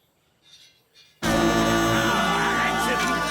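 A loud, sustained cartoon horn blast made by blowing into a magic lamp, cutting in abruptly after a short quiet stretch with faint sounds and holding steady to the end.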